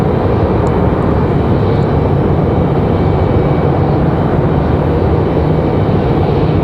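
An airplane departing Raleigh-Durham International Airport roars loud and steady throughout, a broad continuous jet rumble with no break and no voices.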